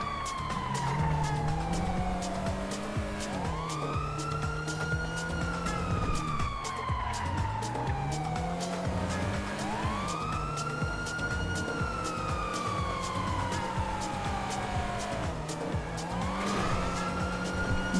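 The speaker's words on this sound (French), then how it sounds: "me semble que j'entends une autre sirène, non?" A police siren in a GTA roleplay game, wailing loud and continuous in long rising and falling sweeps that repeat throughout.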